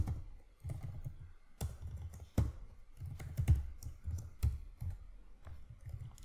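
Keys tapped on a computer keyboard while writing code, bursts of quiet close-up typing with a few sharper clicks, likely the space or enter key, separated by brief pauses.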